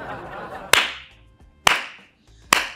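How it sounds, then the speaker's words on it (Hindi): Three sharp hand claps ring out, spaced roughly a second apart, each loud and close with a short ringing decay, with faint background noise between them. "आप तालियां बजा रहे हैं"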